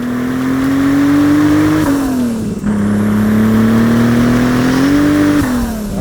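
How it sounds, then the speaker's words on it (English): A VR6 engine-swapped, big-turbo, front-wheel-drive Golf Mk4 GTI spins its wheels with a loud, sustained engine roar whose pitch climbs, dips briefly and climbs again, close and continuous with no talking. "That's a wheel spin."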